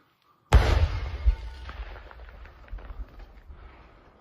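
A single loud, sharp explosion bursts out after a moment of quiet, then rumbles and crackles as it slowly fades over several seconds.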